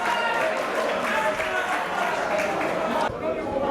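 A school audience at a youth challenge event applauds and cheers in a steady, dense wash of clapping and crowd noise, which thins out abruptly near the end.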